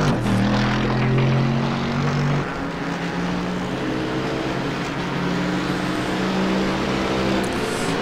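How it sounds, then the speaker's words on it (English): Mercedes GT3 V8 race car at the Nürburgring GP circuit, a loud continuous engine rumble with shifting tonal drone, steady and close throughout. "the rumble of the Mercedes GT3 V8 engine"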